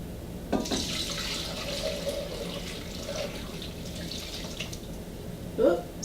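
Broth is poured over food in a kitchen, giving a soft, continuous liquid trickle and splash. It ends in a brief louder splash near the end.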